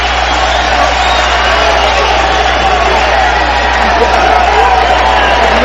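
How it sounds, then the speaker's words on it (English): Loud, dense cheering and yelling from a boxing arena crowd at a Mayweather versus Ndou fight, holding as a steady roar throughout with voices talking over it. "Crowd and Van Andel up and cheering"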